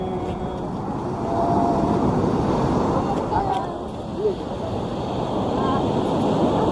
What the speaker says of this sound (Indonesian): Wow, ombaknya lagi gede banget, pasang banget biru ya.